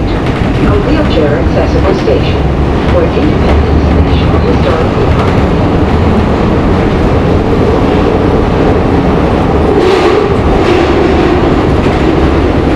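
Onboard ride on a 69th Street-bound Market-Frankford Line M4 subway car 1062, with loud continuous rumble, rail clatter and wheel noise and some screeching tones, plus what may be faint background voices.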